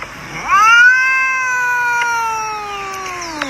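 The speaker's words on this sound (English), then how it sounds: "Aw, hi little kittens. I thought I could hear you." Small kittens give a few close, high-pitched meows, one drawn-out cry that rises and then slowly falls, with a faint tick or two in the background.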